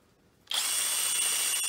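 A cordless screwdriver driving a reciprocating saw attachment is switched on in its second speed mode. After a moment of quiet it starts abruptly into a loud, steady high-pitched motor whine with a rapid buzzing rattle, close and alone.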